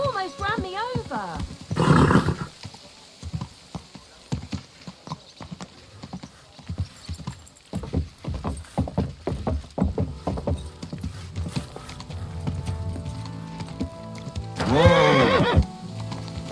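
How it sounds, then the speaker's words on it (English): A horse in the video game Kingdom Come: Deliverance 2 whinnies loudly, then hooves clip-clop steadily across the ground beneath voices, ending with a second loud neigh. "Get that horse under control. You almost ran me over."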